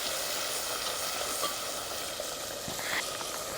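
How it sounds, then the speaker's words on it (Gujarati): Masala spices cooking in hot oil for a desi whole chola shaak, a steady, close, even sizzle and crackle with no pauses and no voices. "ઘડીક આપણે મસાલો તેલમાં પાકવા દેવું."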